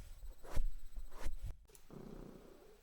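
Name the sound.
cat purring loudly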